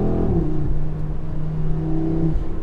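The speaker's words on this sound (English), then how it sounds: "It's got this amazing intake noise. You can hear the turbos going, sucking in the air into the engine." Audi RS3 Sportback, 2022, inline five-cylinder with turbo: a steady, loud engine drone with intake and turbo whoosh, pitch holding then settling after a brief rise, heard up close without voices.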